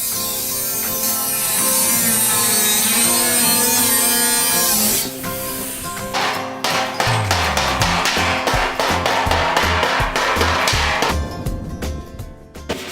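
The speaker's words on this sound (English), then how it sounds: "he's just sanding it down to smooth out the edges" Harsh abrasive grinding against the cut edge of a steel drum, first a steady whine, then rapid uneven scraping strokes as the sander moves along the edge.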